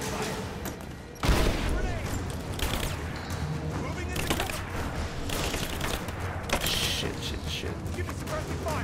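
Rapid bursts of gunfire and sustained suppressive fire in the video game Rise of the Tomb Raider, loud and dense with sharp cracks and a heavy blast near the start, a voice speaking over it.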